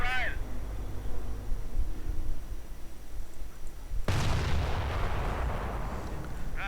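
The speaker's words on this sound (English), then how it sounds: "Another crack from the flak." A flak gun fires in a World War II strategy game. A heavy, booming crack cuts in midway and trails off into a rumbling echo, with battle ambience and a commentator talking throughout.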